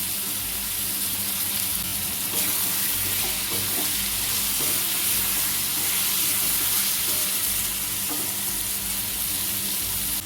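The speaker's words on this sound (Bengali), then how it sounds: "টমেটোটা গলে যাওয়া অবধি ভালো করে কষিয়ে নেব" Chopped tomatoes sauté in hot oil in a pan while ghugni is being cooked, giving a steady, close sizzle and frying hiss with occasional stirring clicks throughout.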